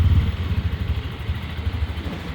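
A Bashan 250 cargo quad bike with a manual gearbox pulls off slowly in low first gear without throttle, giving a steady close, loud, pulsing engine rumble with no voices.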